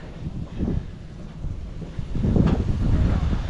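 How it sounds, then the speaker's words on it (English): Gusty wind at a race track buffets the microphone in low rumbling surges, rising and falling, then building into a stronger sustained blast near the end. "Kind of windy and gloomy out today"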